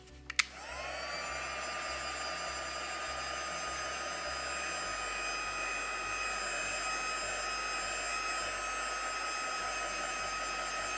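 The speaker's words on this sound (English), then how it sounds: "I'm going to use my heat gun and make sure it's quite dry" A heat gun clicks on and runs as a steady, close, whooshing blower roar while drying stamped craft paper before embossing, holding constant for several seconds with no voices.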